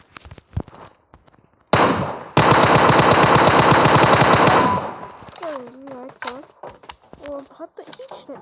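Rapid automatic gunfire rattles loudly in the Red Dead video game, preceded by a few separate shots and followed by someone speaking, with faint pops during his talk.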